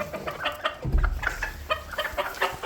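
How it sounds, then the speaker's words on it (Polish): Broody hens cluck and murmur in a farmyard coop, a rooster-like fowl voice mixed in, with irregular short calls overlapping at close range and no speech. "tutaj dwie kury kwoczą, ta niebieska i ta grąsała też kwoczy"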